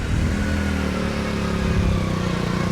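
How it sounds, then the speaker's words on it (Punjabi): A motorcycle rides along a flooded road in Khatkar Kalan village, its engine droning loud and close with a steady rumble, no speech over it. "ਮੋਟਰਸਾਈਕਲ ਦੇ ਟਾਇਰ ਡੁੱਬਦੇ ਨੇ ਪਾਣੀ ਦੇ ਅੰਦਰ"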